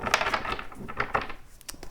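Tarot cards shuffled by hand, a quick series of crisp riffling flutters and slaps close up, denser at first and thinning out toward the end, no speech.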